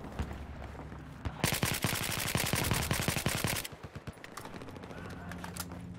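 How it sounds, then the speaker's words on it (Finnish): Gunfire in the Battlefield 4 multiplayer game: a loud, rapid automatic burst of roughly two seconds erupts after quieter background game sound, then cuts off to a lower ambience with faint scattered shots. "Ammuin liian nopeesti."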